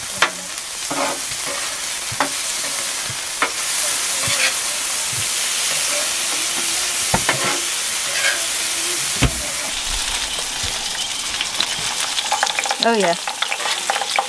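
Food sizzles and fries in grease in a pan at a primitive off-road trailer campsite in a national forest, a steady crackling hiss with occasional pops, and a voice speaks briefly near the end.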